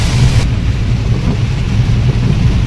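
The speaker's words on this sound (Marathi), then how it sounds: "समोर तुम्ही बघू शकता कशा विजा चमकतात आणि पाऊस पडतोय तो" A thunderstorm with heavy rain over a highway between Malvan and Kalwa, heard as a loud, steady rush of rain and a low rumbling roar throughout, with no talking.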